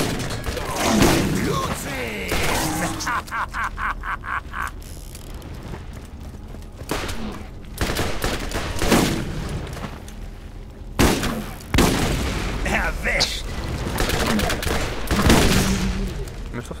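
Rapid bursts of gunfire from Borderlands, loud and close, with mechanical clicks and ratcheting between volleys and a few sharp single shots.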